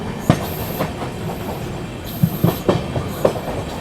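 An express train rolls past at Newra station while overtaking another express, with rumbling wheels, a few sharp clacks over rail joints and brief high wheel squeals.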